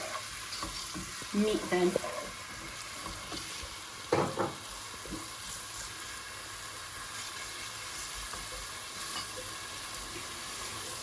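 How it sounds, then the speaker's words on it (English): One large chopped red onion softens in a pan, with a steady, moderate sizzle, occasional scraping stirs and a brief spoken phrase over the frying. "So I'm going to add the onion first and slightly cook the onion."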